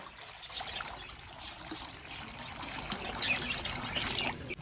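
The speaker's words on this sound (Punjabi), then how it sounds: "ਕੁੰਡਾ ਬਈ ਕਰਤਾ ਸਾਫ਼ ਲੋ ਬਈ ਪਾਣੀ ਪਾ ਦਿੰਨੇ ਆ" Water poured into a pigeons' water bowl, a soft trickling and splashing stream that runs steadily, close and fairly quiet, with no talking.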